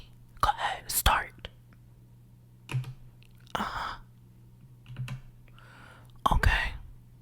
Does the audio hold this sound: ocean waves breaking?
no